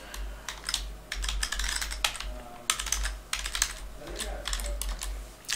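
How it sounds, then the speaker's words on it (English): Rapid keystrokes on a computer keyboard, crisp clicks in irregular bursts that include tab-key presses, close and fairly quiet with no talking. "I can navigate between these fields using tab to move forward, or shift tab to move backwards"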